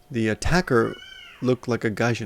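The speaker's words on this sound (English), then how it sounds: "cats are making love outside, I don't know if you can hear that" Cats yowling outside while mating, a drawn-out wavering cry heard faintly in the background between stretches of someone talking close to the microphone.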